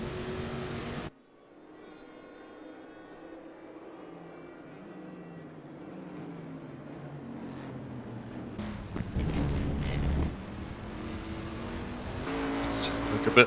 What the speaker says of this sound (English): How lazy these cars look as they go through those corners.